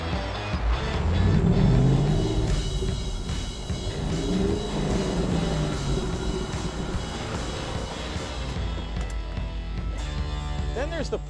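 A Ford Shelby Mustang GT500 drives along with a steady low engine drone and road rumble throughout, swelling slightly early on, while someone talks over it.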